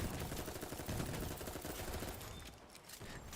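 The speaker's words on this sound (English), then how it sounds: "Sidestepping my laser cannon." Rapid bursts of laser cannon fire from the video game Dolls Nest, a dense run of shots crackling continuously, loud and close, easing slightly toward the end with no talking.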